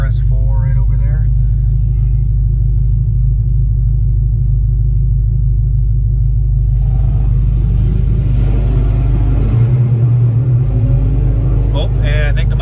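A manual Mustang restarts after stalling, and a deep, loud engine rumble swells into a rev partway through, with a voice talking over it.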